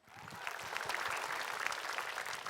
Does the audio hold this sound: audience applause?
yes